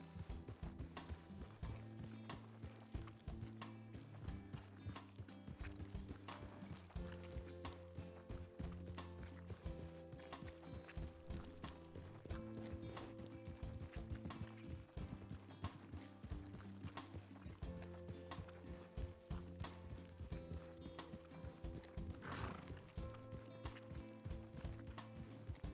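A horse in the RedM video game, steady clip-clop hoofbeats with mechanical clicks running under sustained low tonal game music, moderately quiet and continuous.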